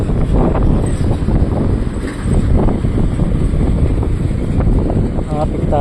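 Strong wind buffets the microphone at Dangay port in Roxas, a steady low roar across the whole stretch with people talking underneath and harbour noise mixed in.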